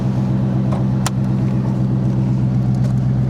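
Pontiac Grand Prix GTP engine idling with a steady, loud, low rumble close by, a brief click partway through.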